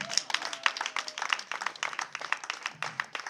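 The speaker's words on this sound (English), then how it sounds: "Can we clap for my daughter?" Audience applause at a Nigerian film-industry gathering, many hands clapping in a busy, continuous patter at a moderate distance, with faint voices underneath.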